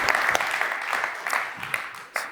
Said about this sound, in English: Applaud. Here we go.